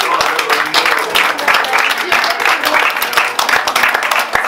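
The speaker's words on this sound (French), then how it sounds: "on l'applaudit derrière." An audience applauds at a festival in Aspremont, dense steady clapping throughout, loud and close, with voices mixed in underneath.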